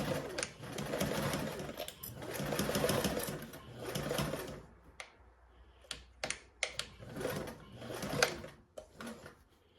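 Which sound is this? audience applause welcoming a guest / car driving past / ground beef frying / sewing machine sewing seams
sewing machine sewing seams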